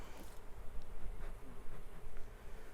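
Honey bees buzz around a traditional wooden queen cage during a hive installation, a close, continuous droning hum with small shifts in intensity and no talking.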